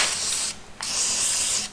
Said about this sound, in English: I'm gonna try to spray some rust stopper